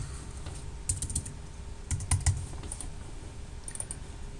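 Keys clack on a computer keyboard as a folder name is typed, a few short bursts of crisp taps separated by pauses, close and moderately quiet over a faint room hum.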